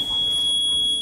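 A mobile phone gives its low-battery warning as a single steady, high electronic beep that lasts about a second, moderately loud over a faint background.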